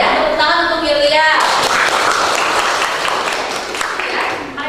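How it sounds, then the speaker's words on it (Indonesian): Classroom applause for a student, a dense burst of many hands clapping that starts after a brief spoken line and carries on steadily at close range for several seconds. "Tepuk tangan untuk Yulia."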